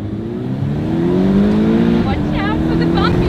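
A nice car driving and accelerating on a bumpy road in Portugal, its engine hum rising steadily inside the cabin with a constant loud rumble, while a voice talks over it.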